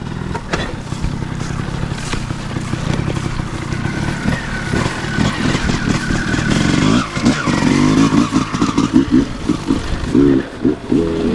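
Kawasaki KX250 dirt bike ridden up close, its engine droning loud and steady with rising and falling revs and rattly clatter throughout, mixed with wind buffeting.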